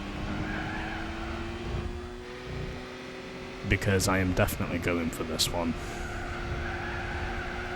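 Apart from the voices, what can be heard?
revving race car engine in video game Gran Turismo 4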